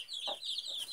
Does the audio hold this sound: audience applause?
no